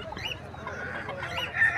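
French laying hens cluck at an outdoor animal market in Khamis Mushait, Saudi Arabia, soft intermittent clucks and fowl calls amid faint market bustle.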